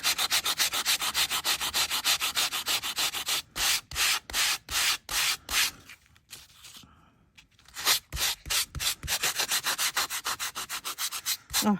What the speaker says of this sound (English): And using our sanding buff,